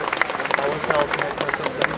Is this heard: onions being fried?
no